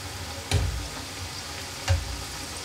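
Gram flour lachha pakoras fry in hot oil with a steady close sizzle, broken by two brief louder stirring splashes.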